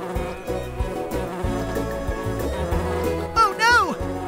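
Cartoon bees buzzing around flowers in an animated children's nature show, a steady insect drone over a busy music bed, with a sliding tonal effect near the end.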